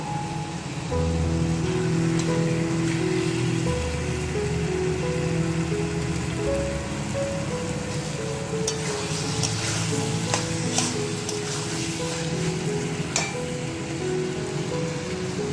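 A spoonful of ghee crackles in a pan while a vegetarian watermelon curry cooks. The sizzle is a steady, rain-like hiss with scattered pops, heard under a layer of background music.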